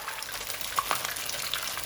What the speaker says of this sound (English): The reason why I'm shallow frying this, or you can even deep fry if you want to